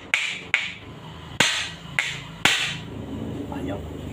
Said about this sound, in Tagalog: kumuha tayong martilyo